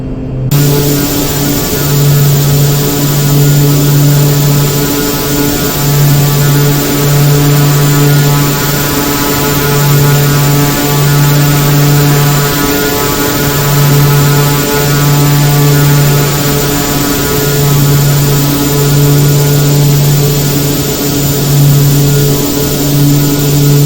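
Steady turboprop drone from a Carenado King Air C90 in X-Plane 11 at cruise, a loud, even hum with a low pulsing beat and a thin high whine, with no talk.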